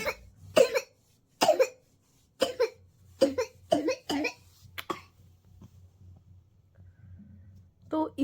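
A young child, nearly three years old, coughs in a string of short, harsh bursts with brief pauses between them. The coughs are close and loud over a low, steady background hum. No one speaks.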